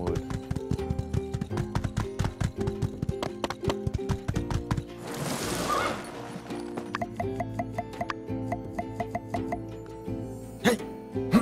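Horse hooves clip-clopping steadily in the video game My Time at Sandrock, a quick regular rhythm of close, crisp hoof beats with a brief rustle partway through.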